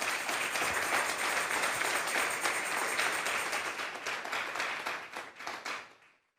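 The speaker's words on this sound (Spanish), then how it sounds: "Denle un fuerte aplauso pues al Señor." A church congregation at a Sunday service breaks into strong, sustained applause, dense clapping filling the room before tapering off and stopping near the end.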